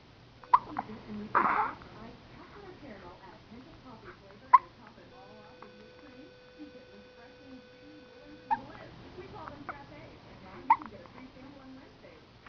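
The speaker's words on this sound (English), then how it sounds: "We got the hiccups." A baby girl hiccups a few times, each hiccup a short sharp catch spaced seconds apart, while an adult talks softly nearby.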